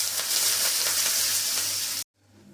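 A tempering of asafoetida and curry leaves sizzles loudly in hot oil for lemon gojju, a dense continuous crackling hiss that cuts off abruptly, leaving near-silence.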